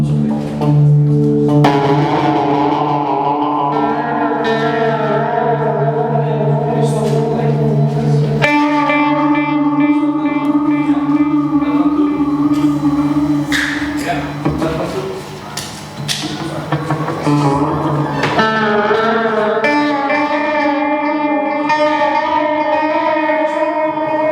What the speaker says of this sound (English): to create a stringed instrument which could encompass all string instruments which are strung, okay, from east to west